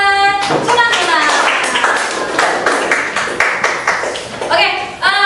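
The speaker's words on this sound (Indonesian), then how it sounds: "Tepuk tangan buat Sunan Bonang." Pupils in a classroom clap together in a quick burst of rapid, close hand claps, with voices heard at the start and end.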